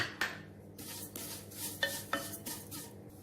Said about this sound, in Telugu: ఇప్పుడు ఇదే నెయ్యిలో ఈ సేమియాని కూడా వేయించుకోవాలి.